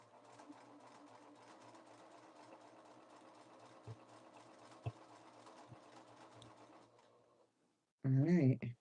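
Sewing machine running steadily while stitching a pocket seam on handmade apparel at a 3/8 seam allowance, a continuous mechanical whir for about seven seconds, then a brief loud burst of nearby voice.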